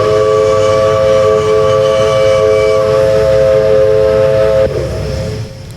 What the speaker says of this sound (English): So here's the USA whistle.